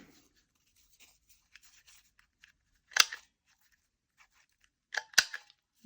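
Paper being snipped with scissors while making junk journal embellishments: two short, close, crisp bursts of cutting separated by quiet, with faint rustling of paper in between and no talk.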